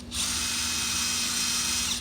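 A power drill runs continuously for about two seconds as it backs out a screw from a chicken coop hinge, a close, high, steady whir that starts and stops abruptly.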